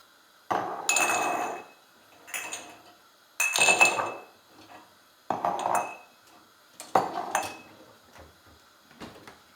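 Sterilized glass jars clink and clatter against each other in five separate bursts, close by, with quiet pauses between them.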